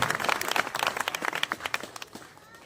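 Audience applause at a Hindu religious gathering at Bagheshwar Dham, a dense burst of many hands clapping that fades gradually toward the end, no voices over it.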